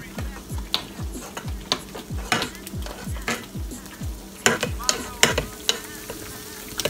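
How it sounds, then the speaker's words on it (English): Pancakes sizzle on a griddle while grits are stirred nearby, with repeated sharp scraping and tapping strokes over a low, steady frying hiss, close and moderately quiet. "Pat down my pancakes a little bit so they can just start cooking a little bit more."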